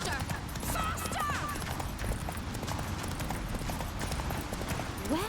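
Geralt's horse Roach galloping in The Witcher 3, a fast rhythmic clatter of hooves pounding steadily and close, layered with chase noise and faint shouting voices in the background.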